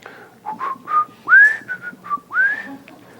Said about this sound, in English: A little whistling phone there.